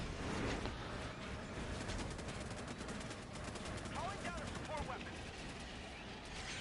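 Rapid bursts of heavy gunfire hammer at a bug nest in Helldivers, loud dense shots with mechanical clatter, faint voices underneath.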